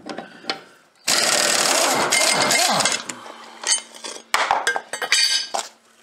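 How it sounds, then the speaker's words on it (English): An impact wrench rattles and hammers to remove the blades from a Gravely Pro 252 mower deck. A long loud burst is followed by shorter bursts and metallic clinks, all close by. "First thing is with the blades, they do come off real easy, which I use an impact"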